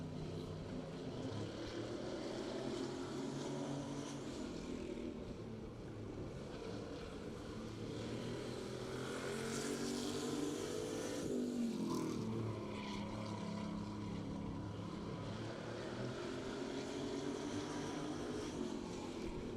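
A race car, McBetts Racing Engines number 42, heads out on a qualifying lap. Its engine drones steadily and loudly from a distance for the whole stretch, with the pitch rising and falling as it moves around the track, and no talk over it.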